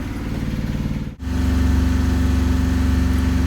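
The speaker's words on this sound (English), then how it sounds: "I'll just race the engine a few times, see if it overheats" A boat engine is raced while being checked for overheating, a loud, steady, close mechanical drone that dips briefly and then returns at a heavier, deeper pitch.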